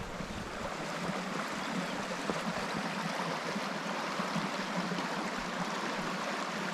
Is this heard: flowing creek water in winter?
yes